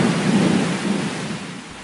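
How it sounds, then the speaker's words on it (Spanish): A heavy rain shower with thunder falls over a city, a loud broad wash of rain with a deep rolling rumble that slowly fades, and no voices. "Al rato, un fuerte chaparrón volvió a caer sobre la ciudad."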